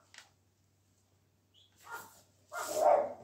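A chihuahua gives a few sharp, high yappy barks close by, separated by short silences, with a low hum underneath.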